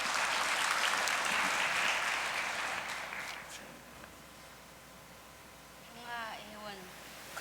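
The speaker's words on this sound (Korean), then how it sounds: "두 분께 박수 보내주십시오" An audience claps for two women's group leaders at a church gathering: a moderate burst of applause that tapers off after a few seconds, followed by a quieter room and a brief voice over a microphone.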